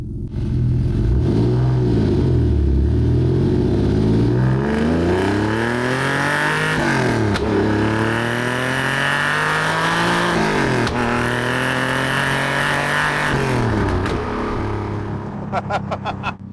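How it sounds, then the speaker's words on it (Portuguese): A TVR Sagaris Speed 6 straight-six engine revs hard and continuously, pitch climbing through several gear changes with brief dips between shifts, loud and close throughout. "Speed 6, o som dele é simplesmente feroz demais."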